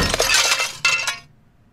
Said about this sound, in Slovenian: Lahko razbijam šipe.